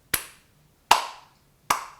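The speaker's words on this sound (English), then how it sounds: "you can hear all the claps from that area of the stadium" Three separate, sharp hand claps from students in a stadium, evenly spaced about three quarters of a second apart, each crisp with a short echoing tail in a large open space.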